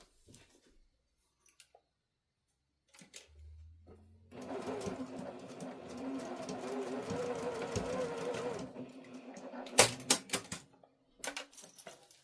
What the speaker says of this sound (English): now I'm going to run a couple of stitches back and forth on this side so the zipper pulls don't come